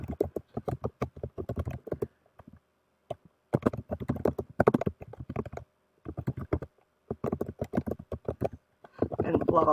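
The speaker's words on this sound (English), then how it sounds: "Okay, so I'm just going to type the question." Bursts of rapid computer keyboard typing as a question is entered, coming in clusters with short pauses between them and a denser patch of clicks at the end; some talking may be present.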